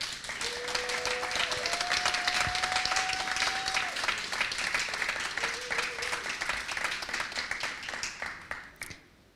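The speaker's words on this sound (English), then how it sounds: "So let's give them and everyone around the world working on this important task a round of applause" Lively applause from a gathered audience at a climate conference session, steady clapping with a few cheers, fading out near the end.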